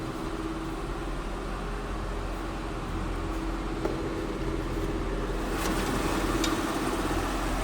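A 1999 Mercedes-Benz SL500 convertible's engine idles smoothly, a steady, quiet low hum with a faint even drone and no talking over it.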